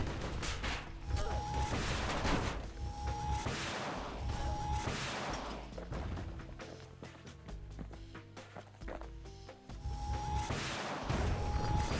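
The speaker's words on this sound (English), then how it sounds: "Can I take it out from a range with the Calamity Cannon?" Repeated heavy booming blasts of Calamity Cannon fire in the game Bastion, with crashing impacts, several shots spaced a few seconds apart over a continuous game soundtrack.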